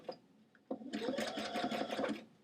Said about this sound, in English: Oopsie, didn't fix it, so I'm going to back stitch.